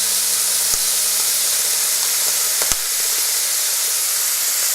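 Bacon lardons hitting a hot pan with Brussels sprouts, a loud continuous hissing sizzle with a couple of sharp spits and crackles, no voices over it.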